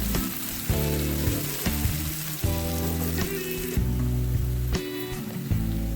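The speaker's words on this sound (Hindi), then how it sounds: "प्याज हमारे फ्राई हो रही हैं और इसका कलर भी चेंज हो रहा है।" Onions sizzle steadily in a hot pan for a bitter gourd and onion stir-fry, with a continuous crackling fry broken by repeated clinks and scrapes of a utensil stirring, close and fairly quiet.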